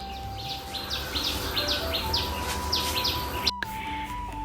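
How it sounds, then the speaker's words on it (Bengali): Birds chirping around an open-air kitchen, repeated short tweets in quick bursts at moderate distance over a faint background hum, with no one speaking. "পাখির কিচিরমিচির ডাক শুনতে বেশ ভালোই লাগছে"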